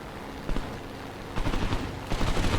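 Machine gun fire from a G.55 fighter plane in War Thunder: short rattling bursts, one brief burst then two longer rapid strings, loud against a steady engine drone.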